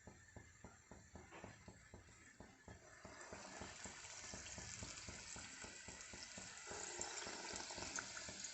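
Rounds of dough drop into hot oil and sizzle, a dense crackling hiss that swells and stays steady after a few stirring knocks at the start.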